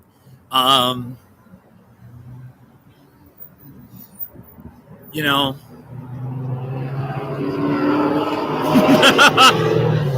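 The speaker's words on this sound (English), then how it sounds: "There's a loud car right there." A loud car on the street approaches from a distance, its engine roar building steadily to a close, heavy pass at the end, following a man's short bursts of speech and laughter.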